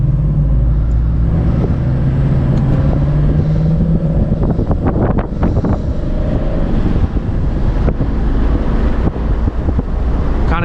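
A Lexus IS F accelerating hard in first gear, its engine roar building loud and close beneath heavy wind buffeting on the microphone, with the surge sharpening midway through.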